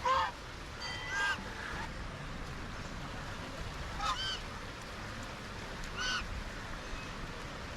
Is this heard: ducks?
yes